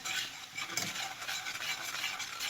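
Whisk scraping steadily through oil and flour for a gumbo roux, a continuous close hiss and swish with a brief louder stroke, no talking.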